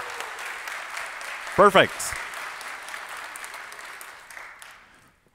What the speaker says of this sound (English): give a round of applause and cheer for the conference